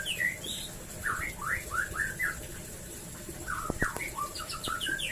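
A male white-rumped shama (murai batu) sings a run of clear, rising and falling whistled phrases over a soft background hiss, with a few sharp clicks near the end and no speech.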